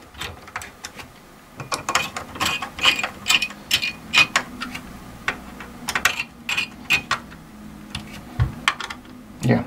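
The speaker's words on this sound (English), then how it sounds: "the order of tightening these screws is even marked on the socket itself or on the heatsink" Screws being tightened on the heatsink of an HP server blade, heard as close, uneven bursts of small mechanical clicks with short pauses between turns.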